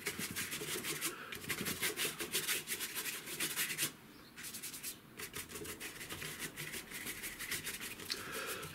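Acrylic paint being brushed onto canvas with sienna and white, steady close scratchy rubbing strokes in rapid rhythm, with a brief pause midway.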